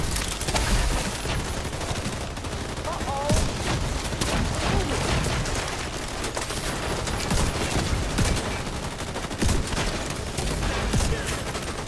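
Dense gunfire in Iron Horse Raid, rapid overlapping shots and bursts rattling continuously and loud throughout, with faint voices underneath.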